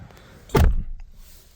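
A single solid 2025 Lexus LX 700h door thunk, short and heavy with a low-end punch, followed by quiet.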